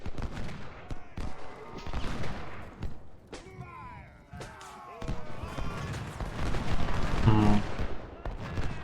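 Civil War infantry units in the Ultimate General strategy game fire volleys, giving repeated crackling musket bursts and heavy booms under a player's talking, with a few brief horn-like calls.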